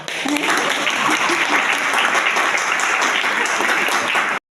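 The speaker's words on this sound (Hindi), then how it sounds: "ताली बजा" Students clapping together at a college antakshari singing game, a loud, steady wash of applause that runs evenly for a few seconds and then cuts off abruptly.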